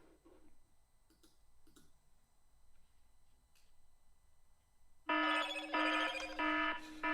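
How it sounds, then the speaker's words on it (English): An old Motorola mobile phone sounds a loud electronic ringing alarm that bursts in abruptly after several seconds of quiet ticking and faint clicks, pulsing in short repeated tones near the end. "the buzz is quite impressive. Especially on this old Motorola."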